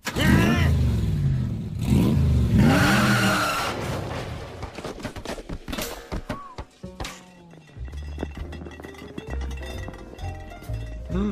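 A car engine revs loudly and pulls away, with clattering and thumps as the noise recedes, followed by quieter rattling and knocks, all without speech.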